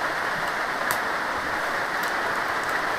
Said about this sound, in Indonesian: Nah, pas hujan-hujan juga nih.